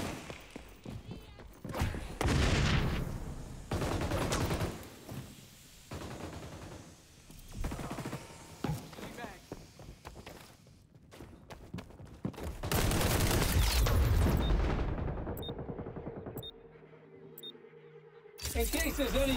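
Bursts of gunfire in the arena shooter XDefiant, with several loud volleys separated by quieter gaps. Sharp single shots and clicks are scattered throughout, and someone talks over parts of it.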